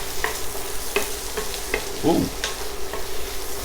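Peppers and onions sizzle in a hot pan on medium-high heat after turkey sausage, with a steady close crackle broken by light scraping stirs. No one talks.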